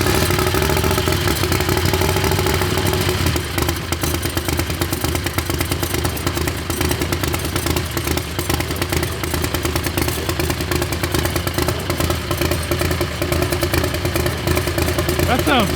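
Predator 670 engine fitted with a bigger turbo on a drag racing dragster, running as a loud, constant rattling mechanical clatter that holds steady throughout at close range.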